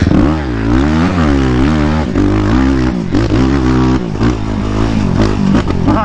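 A custom Yamaha YFZ450R ATV engine roars loud and close, revving hard with rising and falling pitch sweeps and throttle blips while racing a dusty track.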